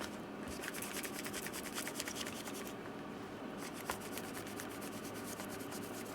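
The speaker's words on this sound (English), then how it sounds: "So I'm going to just rub the adhesive." Steady, faint rubbing and scuffing as adhesive residue is worked off the back of a 2012 MacBook Pro battery by hand, a continuous dry friction with no talking.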